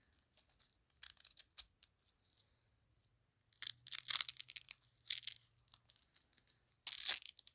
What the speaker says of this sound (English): Let me unwrap the cord here.